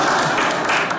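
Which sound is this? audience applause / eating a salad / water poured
audience applause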